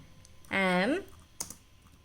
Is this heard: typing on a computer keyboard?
yes